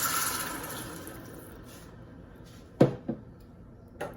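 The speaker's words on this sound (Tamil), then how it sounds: "நான் 1 கப் தண்ணி ஆட் பண்ண போகிறேன்." A cup of water is poured into a pan of sautéed vegetables for a vegetable sothi, a rushing pour that fades away, followed by a few sharp splashes or clinks near the end.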